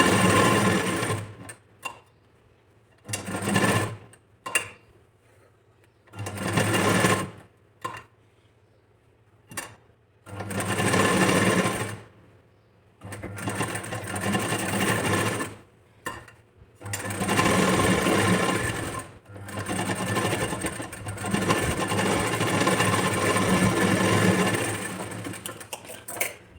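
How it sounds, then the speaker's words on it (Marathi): A sewing machine stitches the cups of a princess-cut blouse in loud bursts of rapid mechanical whirring. The runs last a few seconds each and are separated by short pauses, close up with no talk. "आता आपल्याला ज्या कटोरीज आहेत त्या इथे स्टिच करून घ्यायच्या"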